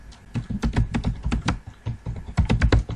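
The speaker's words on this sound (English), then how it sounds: "The first thing, let's give it a name. Let's type in" Steady, close typing on a computer keyboard: a quick, fairly loud run of key clicks with a brief pause midway while entering a block name in drafting software.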